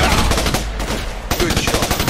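Enemy gunfire in the Raven Squad PC shooter, a steady rattle of rapid automatic shots fairly close and loud, continuing throughout.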